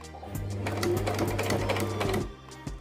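Sewing machine stitching fabric for a hair scrunchie, a close, steady rapid mechanical whir lasting about two seconds, then stopping.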